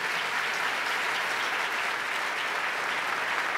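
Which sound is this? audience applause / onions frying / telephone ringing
audience applause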